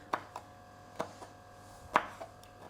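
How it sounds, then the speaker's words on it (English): A knife chops char-grilled chillies on a board in sharp, widely spaced strikes, with about six dry cuts over a few seconds and two louder hits among them. Fairly close, with no talking over it. "So I'm just chopping them."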